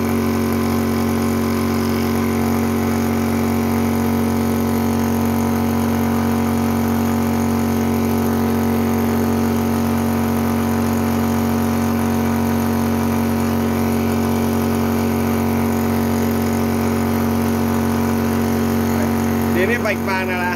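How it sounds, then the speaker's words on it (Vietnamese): A Xin Yong Shi 2023 PCP high-pressure air pump runs steadily and close, a constant smooth motor drone with a strong low hum that holds unchanged throughout, with a brief rattle near the end. "Bơm này thì là nghe cực kỳ là êm"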